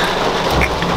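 Heavy rain pours near a waterfall at EcoPark La Igualdad in Guatemala. It is a loud, dense, continuous roar lasting about a second, with no voices.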